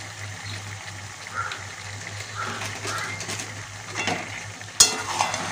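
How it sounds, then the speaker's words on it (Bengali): Chicken coated in red chili powder is stir-fried in a pan, giving a moderate sizzle with intermittent stirring scrapes, a steady low hum beneath, and a sharp clank of metal near the end. "এবার এটাকে ভালো করে কষিয়ে নেব।"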